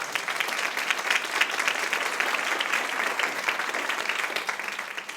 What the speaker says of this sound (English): Could we give these folks all a round of applause?